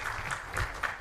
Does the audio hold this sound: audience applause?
yes